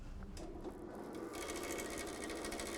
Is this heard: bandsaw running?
yes